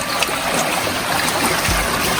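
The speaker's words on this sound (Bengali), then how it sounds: "কলকল পানির শব্দ" Cold hill stream in a remote trekking area of Khagrachari, babbling and gurgling steadily at close range, a continuous broadband wash of flowing water with no voices.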